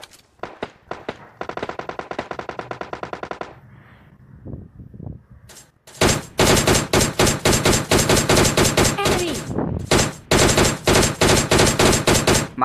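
Gunfire in a shooting video game: bursts of rapid sharp shots, a short pause with scattered single cracks, then loud sustained automatic fire with dense repeated reports.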